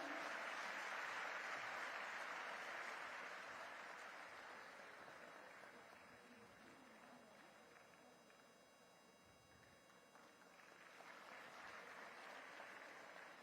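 Sustained audience applause fills a hall, greeting a donor who gave five crore rupees to an institution at a formal ceremony; the clapping stays loud and dense, easing slightly midway before swelling again.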